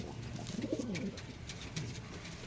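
A lively pigeon coos once in a soft, low rolling call close by, with faint rustling and light clicks around it and no talk.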